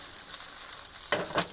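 Garlic sprouts, ginger and corn sizzle in a hot wok, a continuous close crackling hiss broken near the end by two quick scraping stirs of the spatula, with no talking.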